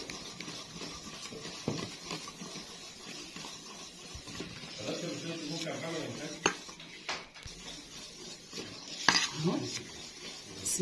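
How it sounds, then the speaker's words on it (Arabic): A spoon scrapes and clinks against a metal bowl while cake batter is stirred hard in one direction, with irregular tapping strokes close by and a few louder knocks, with faint speech in the background. "انزل بقى تقلب كده جامد على اتجاه واحد"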